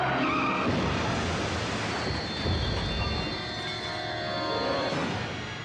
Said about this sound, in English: That's when I heard the big screech.